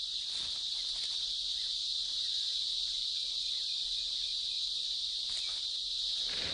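Cicadas sing in a Bengal tiger habitat, a loud continuous high-pitched buzzing drone that holds steady throughout with no pauses.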